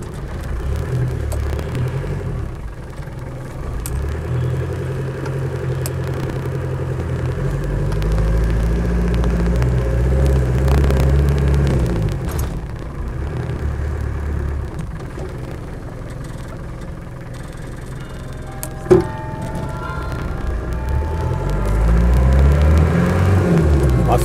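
A car engine pulling up the road under load, a steady, loud low rumble that rises and falls with revs, with a brief sharp knock partway through.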